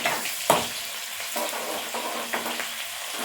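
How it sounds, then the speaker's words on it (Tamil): Onions sautéing in a pan during the tempering step of a green pigeon pea kuzhambu: a steady close sizzle with a few sharp stirring clacks and scrapes, no voices. "இந்த வெங்காயம் வதங்கட்டும் தாளிச்சு விட்டுக்கிறலாம்"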